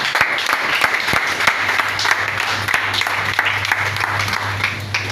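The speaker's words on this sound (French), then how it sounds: "On acclame la parole de Dieu." A church congregation applauds together in a dense, continuous burst of clapping that stays loud from start to finish, with faint voices underneath.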